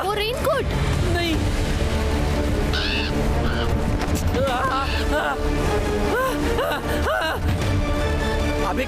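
Crows caw repeatedly in short harsh bursts outdoors, loud and close, mixed with someone shouting in Hindi and steady background noise.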